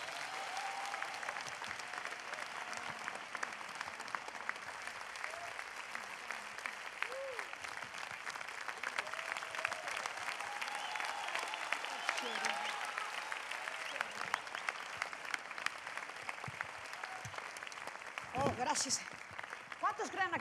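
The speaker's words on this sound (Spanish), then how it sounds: "Dele un aplauso" Sustained applause from a church congregation during a Spanish-language worship service, a steady dense wash of clapping lasting the whole stretch with voices mixed in underneath and a brief louder burst near the end.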